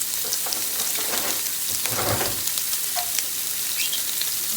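Italian sausage meat sizzles and fries in a non-stick skillet on a stove set too high, a steady soft crackle with occasional scraping stirs as the meat is broken up, fairly quiet and close.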